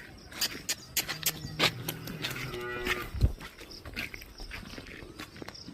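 A Holstein Friesian cow gives a single low, drawn-out moo at close range, with faint farmyard shuffling and scattered clicks around it.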